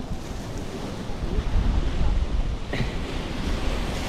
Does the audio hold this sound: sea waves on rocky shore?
yes